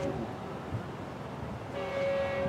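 A distant Metrolink train rumbles along at Moorpark, then a sustained horn blast sounds toward the end, steady and moderately loud over the background.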